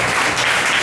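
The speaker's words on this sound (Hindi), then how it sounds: "आइए जोरदार ताली बजाएं प्रभु के लिए।" A church audience applauds loudly for the Lord at a gathering in Vasai, a dense, steady wash of many hands clapping together throughout the short moment, with no voices standing out.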